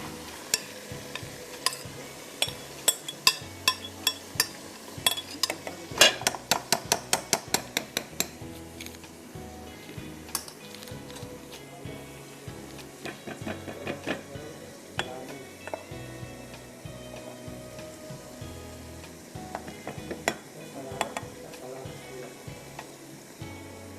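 Chicken drumsticks cooking in a covered pot give a soft steady sizzle, broken by clinks and scrapes of a utensil against the pot, busiest early on and then calmer.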